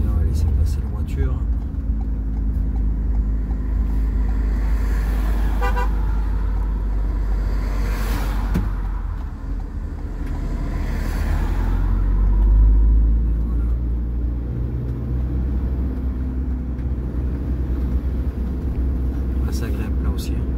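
A car drives along a mountain road, its engine a steady low rumble from close by. The sound swells slightly and then fades, and someone talks over it.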